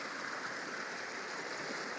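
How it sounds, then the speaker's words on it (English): Winter flood water rushes through rockwork and gravel in a steady, broad hiss of flowing water, constant and fairly close, with no voices or breaks. "flowing through the rockwork there"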